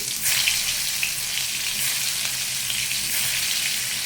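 Bitter gourd slices fry in hot oil tempered with black cumin, producing a loud, dense, continuous sizzle close by with faint bubbling crackle and no voices.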